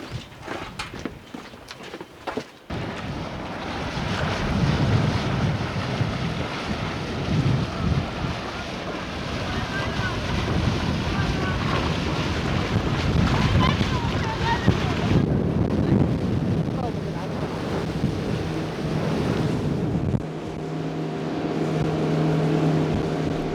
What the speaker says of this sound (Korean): 바람이 많이 불어요 지금